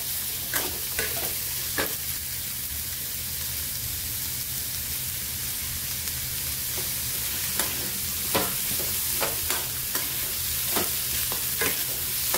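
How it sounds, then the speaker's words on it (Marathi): Chopped onions sautéing in a pan for paneer masala, a steady close sizzle of hot oil with scattered sharp scrapes and clacks of a spoon stirring, no voices. "कांदा छान तांबूस रंगापर्यंत परतून घेऊया।"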